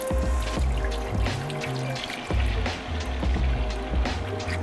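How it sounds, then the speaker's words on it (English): Organic cream is poured from containers into big pots for making ice cream, giving a gurgling, trickling pour with glugs and small splashes, close and continuous with slight breaks. "So I'm gonna dump one of these each into one of these lovely big pots."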